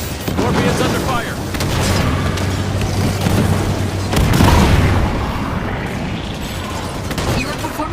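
A Scorpion tank in Halo 5: Guardians comes under heavy attack, with deep booms and dense gunfire rolling on without a break, swelling loudest midway, while faint voices sit beneath the battle.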